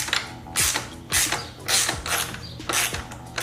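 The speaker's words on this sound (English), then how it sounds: "And we're gonna take our shorter frame slider right here, put it right back in, and then with a 17mm, screw this on." A 17mm socket ratchet tightens a motorcycle frame slider in several bursts of rapid clicking, close and clear, separated by short pauses while the wrench is reset, with no voices.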